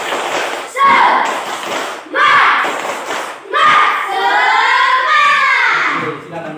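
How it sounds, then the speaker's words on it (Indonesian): A class of standing schoolchildren performs a rhythmic group clap-chant during a maths lesson, loud bursts of clapping with shouted voices in three or four phrased waves, the last one a longer sustained cry. "kita tepuk semangat sekali lagi"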